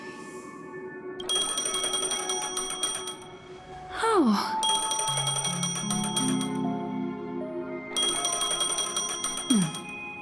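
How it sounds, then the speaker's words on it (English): A phone rings in the video game Honkai: Star Rail, with repeated bursts of electronic bell tones broken by brief pauses, while a short spoken exclamation and some game sound effects come in between the rings. "A phone."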